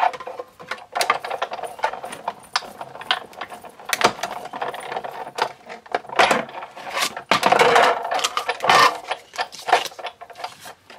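A Big Shot die-cutting machine with magnetic platform and cutting pad feeds a circle framelit through its rollers, giving a run of close, irregular ratcheting clicks and mechanical clunks that start and stop over several seconds, with no talking.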